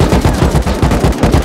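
Rapid automatic gunfire from a video game, with a steady stream of closely spaced shots that stay loud and dense throughout the short burst and carry no talk.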